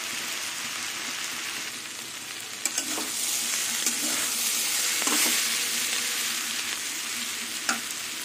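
Teasel gourd and potato frying in an open, uncovered pan over a raised gas flame, giving a steady, close sizzle with a few sharp spits and pops and no voices.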